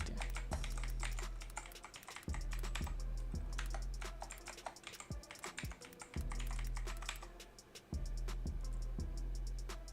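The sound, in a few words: typing on a computer keyboard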